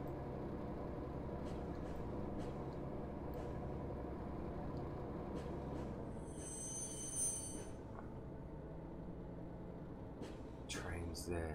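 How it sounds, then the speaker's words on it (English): A train in the video game Train Mechanic Simulator 2017, rumbling and rolling steadily with a brief metallic squeal partway through, moderately near, while someone talks over it. "Train's there."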